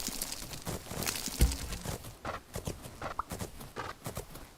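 A horse's hooves clip-clop in the video game Fernhoof Grove, a brisk uneven run of close, moderately loud hoofbeats with one sharp thud early on.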